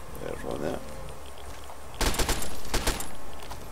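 A shotgun fires at Mirelurks in the video game Fallout 3, with a cluster of loud, sharp blasts in quick succession that stand out over a constant game background rumble.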